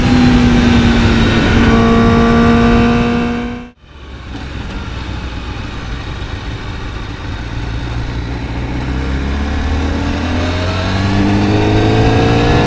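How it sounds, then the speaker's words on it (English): Honda CBR1000RR-RSP Fireblade motorcycle exhaust roaring loudly at speed, dropping sharply as it shifts, then building again through rising revs with quick-shifter gear changes, close and alone. "You can hear the exhaust note here."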